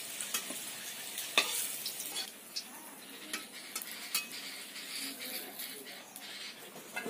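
Potatoes fry in a pan with a steady sizzling hiss broken by sharp crackles and pops, fairly close, while a voice talks faintly underneath.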